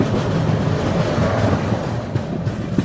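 The Sealdah Rajdhani Express runs at speed past the Vivek Express, with a steady loud rumble of wheels and carriages and light rhythmic clatter from inside the moving train.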